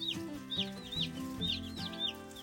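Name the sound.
baby meat chicks cheeping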